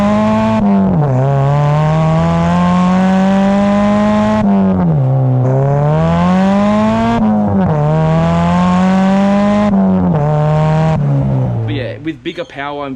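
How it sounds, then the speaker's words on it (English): A Nissan Silvia S15 with an SR20 engine revs repeatedly through its exhaust, several long rising and falling pulls with brief pauses between, loud and close, ending with a short lower rumble. "I'll put some exhaust clips here for what the car sounds like"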